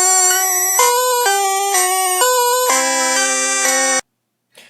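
A tone from the Pokemon Green video game, a shrill chiptune melody of stepped square-wave notes that plays for about four seconds, then cuts off abruptly, leaving silence and a faint blip at the end.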